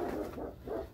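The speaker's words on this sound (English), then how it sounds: "And now the dog." A dog barks in the background in a rural yard while chickens are around, giving about three muffled, mid-pitched barks in steady succession at moderate distance.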